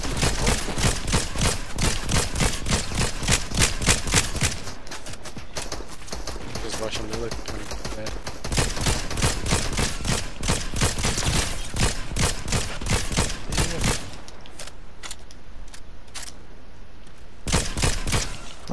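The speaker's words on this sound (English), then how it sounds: "Oh, they shooting at us!" Gunfire in Fortnite, with repeated close, rapid shots rattling in dense runs across the whole stretch, nearly constant with short lulls, while players talk excitedly over it.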